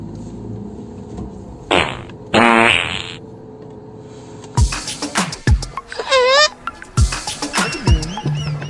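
Comic fart sound effects play in a French-language satirical sketch: a couple of short blasts, then a rapid run of loud, wobbling, squeaky farts, punchy and up close.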